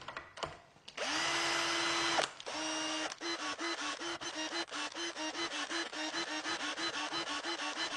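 A power drill drives a homemade thread tap into wood, with a steady whining spin followed by a long run of rapid, even pulses as the tap cuts, close and with no talking.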